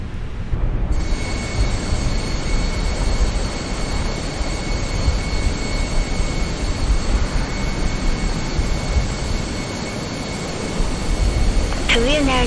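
Airbus A321 engines spooling up in the Fenix flight simulator, a loud, steady broadband roar with a faint high whine, continuous throughout with no pauses.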